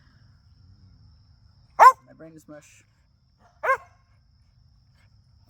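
Two loud, sharp dog barks sound close by, about two seconds apart. A person speaks briefly in the quiet between them.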